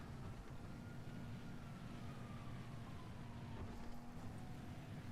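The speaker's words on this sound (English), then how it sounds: "Where the heck are these sirens at?" A faint emergency vehicle siren in the video game GTA 5 wails far off, its pitch sliding slowly, almost buried beneath a dense, steady rumble of background noise.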